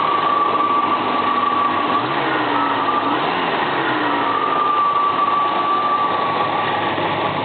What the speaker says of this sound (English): the automatic choke is getting a lot of petrol, but see if you can rev it